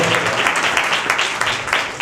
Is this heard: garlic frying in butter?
no